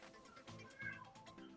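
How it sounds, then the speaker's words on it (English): A pet cat gives a drawn-out, wavering meow, faint and close by, with soft voices in the background. "She was meowing at you."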